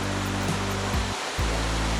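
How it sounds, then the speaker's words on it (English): A waterfall and creek at Fall Creek Falls, Georgia rush steadily along a mountain trail, a loud, continuous roar of falling and flowing water with a low hum beneath it and no talking. "These guys really enjoyed the creek and the waterfall."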